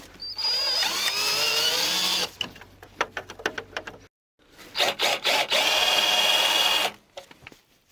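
A power drill fitted with a wood drill bit whines at high speed in two long bursts, with a string of sharp knocks between them and a short silent gap.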